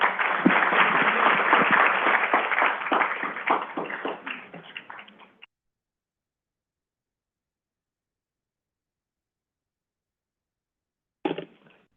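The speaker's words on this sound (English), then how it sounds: "let's give this panel another round of applause" An audience gives a panel at a leadership conference a round of applause: a burst of hand clapping that swells, thins out after about five seconds, then falls silent before a brief final patter.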